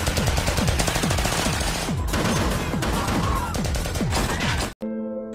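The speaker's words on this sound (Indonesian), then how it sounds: "Kemudian terjadilah saling tembak antara polisi dengan anak buah Singhania" A police shootout with gang members in the 2006 film Don, with rapid, dense bursts of gunfire and crashing impacts, loud and continuous, then a brief cut to a sustained musical tone at the end.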